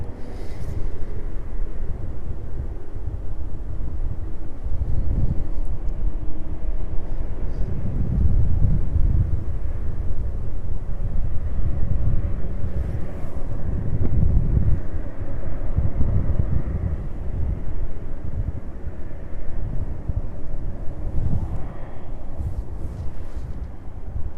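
Wind buffets an outdoor camera at East Midlands Airport, a loud, continuous low rumble and roar of microphone wind noise that swells in gusts, with no voices.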